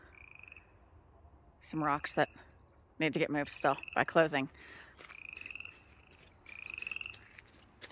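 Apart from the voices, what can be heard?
frogs croaking in a pond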